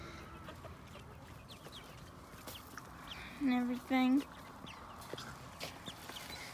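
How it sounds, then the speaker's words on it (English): Backyard hens and young chicks at feeding time give two short, loud clucking calls in quick succession, standing out over a quiet outdoor background while a person speaks briefly. "We're going to go feed the chickens right now"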